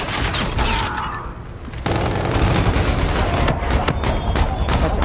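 Rapid, dense gunfire in a Call of Duty: Infinite Warfare match, loud and close, with overlapping volleys that ease for a moment and then resume as a steady rattling barrage.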